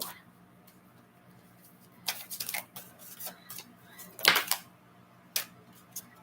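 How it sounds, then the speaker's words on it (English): Oracle cards shuffled close by in a quick run of crisp riffling clicks and flicks, in short irregular bursts with brief pauses, one louder flurry near the end, and no talking. "One more set of cards to shuffle here"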